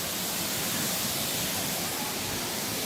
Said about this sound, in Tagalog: Yun yung falls.